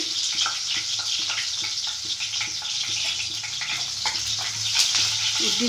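Chopped onion frying in a little oil in a pan, for a chutney, makes a continuous close sizzle with light crackles and an occasional scrape of stirring.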